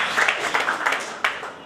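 Audience applause for a speaker at an international human rights and constitutional law congress, a steady wash of clapping from a crowd, with a few sharper claps standing out.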